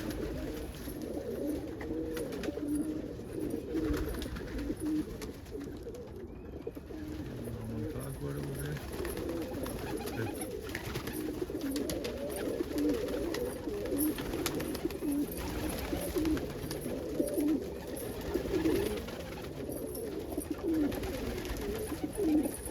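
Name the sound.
bird cooing, likely a pigeon or dove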